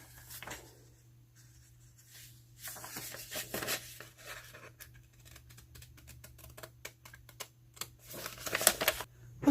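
Scissors cut out colored paper pieces for a DIY craft, making quiet, rapid, irregular snipping and ticking that grows busier and louder toward the end over a low steady hum, with no voices.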